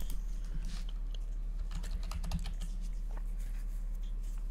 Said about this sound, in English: let's type Shinja in the search bar.